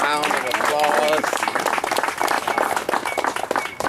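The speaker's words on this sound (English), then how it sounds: "Let's give them another round of applause." Outdoor audience at a graveside honor service breaking into a burst of clapping that swells and then thins into scattered claps over a few seconds.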